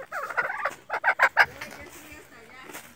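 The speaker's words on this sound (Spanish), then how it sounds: "Ah, le dicen guacharaca." A Colombian chachalaca (guacharaca) in the Altos de Mantilla countryside gives loud, raucous rhythmic calls, a burst of chattering notes followed by several strong repeated cries, then fading into quieter background.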